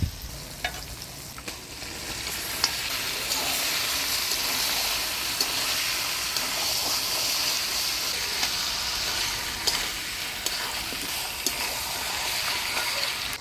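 Chicken meat hitting a pan of well-fried spice paste for a Bengali chicken curry, giving a steady, loud broadband sizzle with occasional clicks of stirring for the whole stretch, with no talking.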